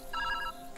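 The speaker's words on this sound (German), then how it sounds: "Oh, Telefon?" Telephone ringing inside the video game Viewfinder, a short electronic ring with bright harmonic tones heard once, clear and fairly loud, with no talk over it.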